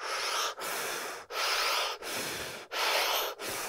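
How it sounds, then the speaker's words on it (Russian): A rapid breathing exercise of forceful breaths in a steady rhythm, each a loud airy rush through the nose or mouth with brief gaps between, close and alone with no talking. "мы начинаем дышать тоже 48 раз, 48 дыханий."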